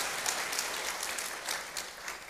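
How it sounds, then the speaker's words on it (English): Audience applause at an audit committee conference keynote, a steady, fairly even wash of clapping from a room full of people, holding at moderate level throughout without talk. "he deserves a big round of applause"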